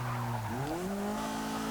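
A 1980 Fiat 124 Sport Spider drives in Forza Motorsport 6, its engine note rising in pitch through a gear change, a steady, moderately loud drone with no talk.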